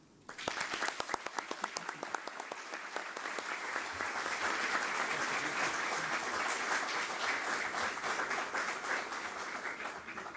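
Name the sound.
audience applause welcoming a speaker at a book presentation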